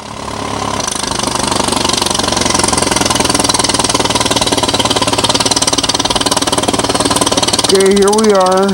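A 1940 Farmall M tractor engine runs steadily while being tuned on a farm, a loud continuous throbbing idle with knocking, mechanical rattle; a wavering tone rises near the end.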